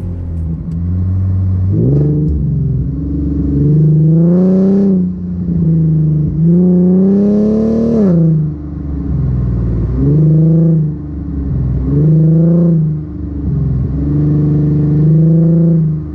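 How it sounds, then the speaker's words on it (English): An Infiniti Q50 fitted with a rear differential brace pulls hard through third gear with short shifts, its engine note climbing steadily and then dropping at each quick gear change in a repeating rise-and-fall pattern, loud and close, with no talking. "I just did like a little pull through third gear, a little bit of short shifting"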